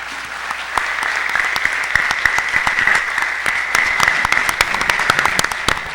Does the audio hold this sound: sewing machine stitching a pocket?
no